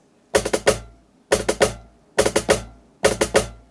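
Four quick bursts of rapid finger-drummed strokes on MPC pads, each a tight cluster of about four hits with a booming low end, repeating at a steady pace.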